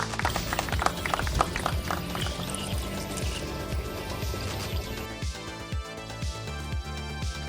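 Dirty engine oil drains out of the oil pan of a third-generation Toyota Tacoma in a steady, splashing stream, close and continuous, tapering slightly toward the end.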